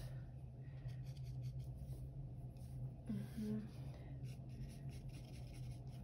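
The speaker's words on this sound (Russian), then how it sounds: "И черную точку аккуратненько внутри глаза я тоже автоматическим карандашом поставила" A mechanical pencil scratching over paper while a crane is drawn, soft continuous graphite scraping in short strokes, close and quiet, with a brief murmured voice partway through.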